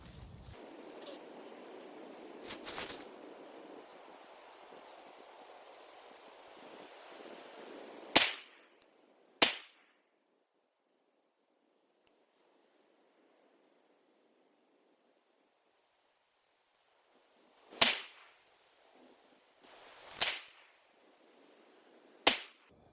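Rifle shots fired outdoors at dusk crack loudly, with two sharp reports under steady wind and ambient noise, a quiet gap, then three more sharp shots, each with a brief echoing tail.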